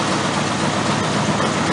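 A 1965 Mercury truck engine runs at a steady, loud idle close by, a continuous low rumble with no voices.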